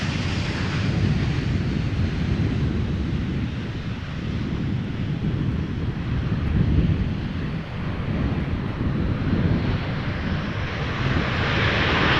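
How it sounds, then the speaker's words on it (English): A SunExpress Boeing 737-800 from Adana lands at Amsterdam Schiphol in crosswind, its engines roaring steadily in loud, broad reverse thrust with a slight swell midway, heavy wind buffeting the microphone throughout and no voices. "Was that an extra bout of reverse thrust that I heard there?"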